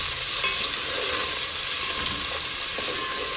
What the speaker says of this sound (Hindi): तेल गरम हो गया है। अब हम इसमें प्याज डाल रहे हैं।